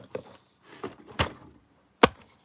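Several close, dull knocks and thumps as a hand bumps the camera during a drawing session, irregularly spaced, with one sharp hard knock near the end.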